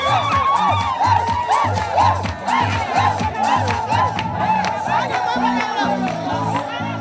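A large stadium crowd cheers and shouts continuously at a ceremony celebrating women in Odienné, with whoops and battle-cry-like yells rising over a steady roar of voices.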